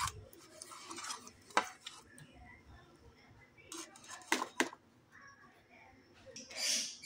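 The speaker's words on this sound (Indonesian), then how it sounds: "diaduk-aduk aja sampai tercampur rata" Ground gado-gado peanut sauce being stirred in a bowl, with scattered close scrapes and clinks of a utensil against the dish between quiet pauses, faint and intermittent.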